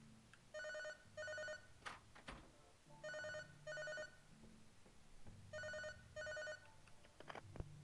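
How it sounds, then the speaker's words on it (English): In the game Lorelai, a telephone bell rings in double bursts, three pairs spaced evenly and heard faintly in a quiet room, with soft background noise between the rings. "Phone's ringing."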